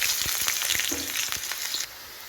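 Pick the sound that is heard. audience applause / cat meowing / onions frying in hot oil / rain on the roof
onions frying in hot oil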